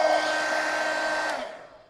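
A hair dryer blows steadily on wet paint on a mixed media collage pumpkin, a close, even whir lasting about a second and a half before the motor winds down and fades out.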